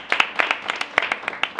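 A small audience claps in a short burst of brisk, uneven hand claps, close and fairly loud.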